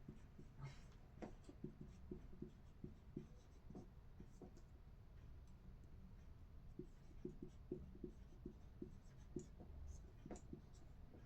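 Chalk or marker writing on a board during a live class 9 mathematics lesson, faint rapid tapping and scratching strokes in irregular bursts throughout, with no talk.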